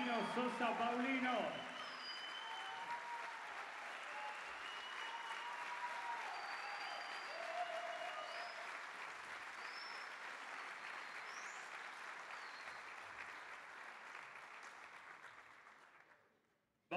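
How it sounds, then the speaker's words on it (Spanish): An audience at a children's singing workshop showcase applauds steadily after a song, a dense wash of clapping that holds for many seconds before fading out near the end. "Fuerte los aplausos para Santino Sosa Paulino."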